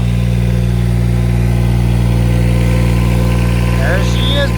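A truck's brand-new engine idles steadily and loudly up close, a constant low rumble that sounds tractor-like, with voices talking briefly near the end.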